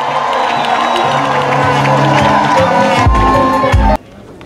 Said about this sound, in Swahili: Wapi makofi na duru?